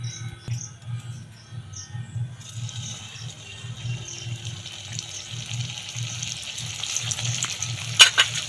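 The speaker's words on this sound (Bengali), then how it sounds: "বাকি যেগুলো আছে সেগুলো ভেজে নেবো" Ripe palm fruit pitha frying in hot oil, a continuous crackling sizzle that stays close and even, with a pulsing low hum beneath and a brief clatter near the end, no voices.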